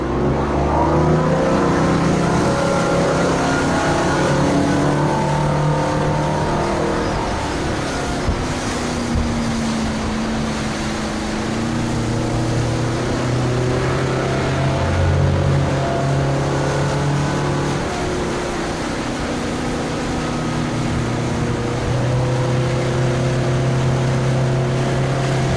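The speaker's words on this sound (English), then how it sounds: "So we'll come up on plane." A 2021 Cobalt R6 motorboat accelerating and climbing onto plane, its engine drone rising and sliding in pitch over a sustained loud run, with water rush beneath and no talking.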